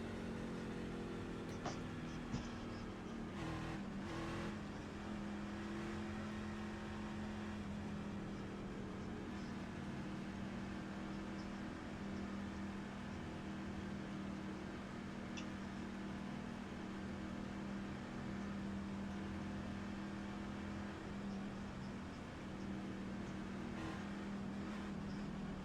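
Race car engines in the iRacing sim drone in a steady, faint, sustained hum, several cars pacing together before a green flag, with no talk.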